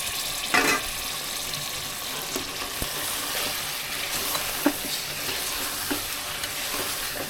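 Chicken and tomatoes sizzle steadily in a pan on low heat, with a spoon scraping and stirring in short clinks and scrapes close by, alone without voices.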